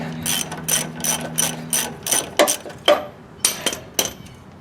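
A ratchet turns a 21mm socket to remove a nut on a Chevrolet Silverado upper control arm. About a dozen close, crisp clicking bursts come in uneven strokes with short pauses between them.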